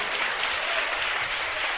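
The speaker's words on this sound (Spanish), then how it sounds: "Dale un aplauso a Cristo" A church congregation applauds in praise of Christ at the close of a Spanish-language sermon, a brief, even burst of massed clapping with no voice over it.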